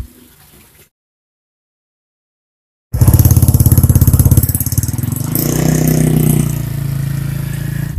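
Small motorcycles ridden by kids in a village, a close, loud buzzing engine drone with a rattling edge that starts abruptly after a near-silent stretch and holds, rising slightly, then settles.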